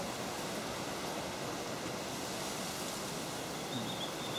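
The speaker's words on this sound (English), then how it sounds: "Beautiful pool with a waterfall." A backyard swimming pool waterfall splashes steadily, a continuous even rush of falling water with no breaks, moderately quiet and without voices.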